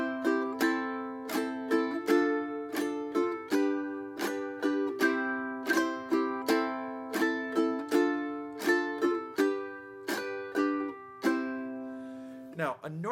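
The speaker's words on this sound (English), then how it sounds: "do a rasgueado strum on beats 2 and 4" Ukulele strummed in a steady rhythm, alternating normal strums with rasgueado up-strums on beats two and four, bright crisp chords close and alone, ending with a quick flurry.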